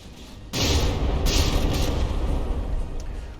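Heavy shell impacts pound a battleship named Polaris during a naval battle in From the Depths, with a sudden loud boom followed by sustained rumbling explosions and crackling bursts.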